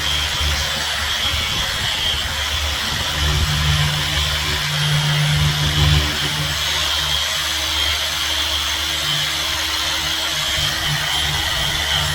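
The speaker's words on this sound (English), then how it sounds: "I'm going to use my little 3-inch, I think it's 3-inch dual action polisher" A small 3-inch dual action polisher works compound into a scratched, cracked bumper on a Ford EF XR6 Falcon, giving a continuous loud mechanical whir with a steady low drone, close by and with no talk.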